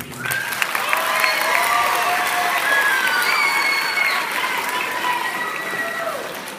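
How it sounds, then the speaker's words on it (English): Audience applause for the MC at a school spring fine arts showcase in a gym, a dense, sustained burst of clapping with some cheering and whistles, holding strong for several seconds before tapering slightly. "Let's give a round of applause to Izzy"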